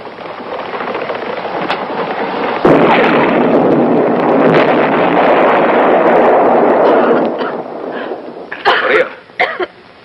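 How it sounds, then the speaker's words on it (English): A horror radio drama effect of explosions inside a cave: a sudden heavy blast, then a loud rumbling roar that lasts several seconds before dying away into a few sharp, cough-like bursts. "I'm scared of explosions."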